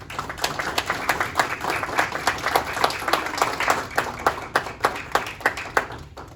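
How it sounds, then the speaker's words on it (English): Steady audience applause rings through an award ceremony, a dense, even patter of many hands clapping with no talk, holding at a consistent level throughout. "a big round of applause for all of you today"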